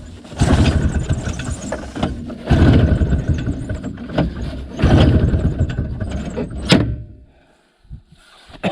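Snowmobile engine cranking in cold winter conditions without catching, three long loud grinding pulls separated by pauses, then a sharp squeal and sudden quiet.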